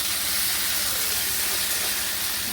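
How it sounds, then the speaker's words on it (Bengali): Marinated shrimp fry in a pan with a continuous loud hiss and sizzle, steady and close, with no talking. "দিয়ে এবার এটাকে একটু ভালো করে ভাজবে।"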